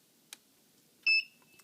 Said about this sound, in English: So you hear a beeps with all the light flash once